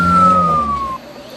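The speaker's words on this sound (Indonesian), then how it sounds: "petugas ambulan segera menuju ke lokasi kejadian dengan dipandu GPS ambulan" An emergency ambulance siren wails loudly and close, a single falling tone that cuts off just before the end.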